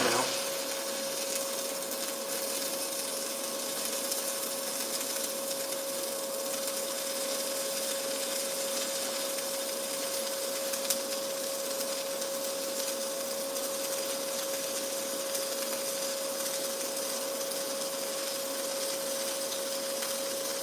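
Gasless flux core wire welding laying a bead, a steady crackling buzz with a constant tonal hum, continuous and close for the whole stretch with no talk.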